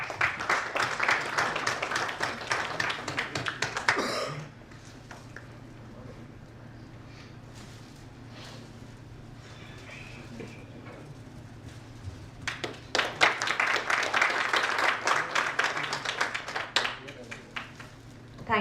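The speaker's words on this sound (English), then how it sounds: "A round of applause, please." Brief applause at an indoor technical knowledge session on injection grouting systems, loud at the start and again near the end, with a quieter stretch of room noise and faint voices in between.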